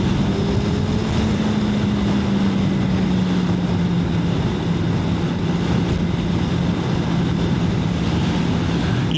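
Suzuki motorcycle engine, a GSX-S1000GX or Hayabusa, droning loud and close in a continuous steady tone that drops slowly in pitch, mixed with rushing wind, with no voices.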